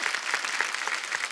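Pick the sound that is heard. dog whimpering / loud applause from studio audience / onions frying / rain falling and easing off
loud applause from studio audience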